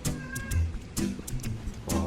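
A cat makes several short meows in quick succession, fairly close but soft, with a gardening setting around it and no speech over it.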